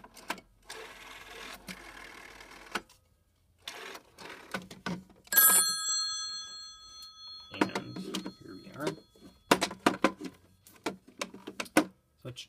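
A telephone on a PBX phone system rings with a bright electromechanical bell burst amid clicks of handset and switch handling, someone talking intermittently nearby.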